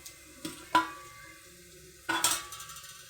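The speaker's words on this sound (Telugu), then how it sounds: "వేయించడానికి మొత్తం సరుకులన్నీ వేసాను" Peanuts and other dry ingredients in oil in a dark pan, with quiet sizzling and a few sharp clinks and scrapes of stirring against the pan, close by and without talk.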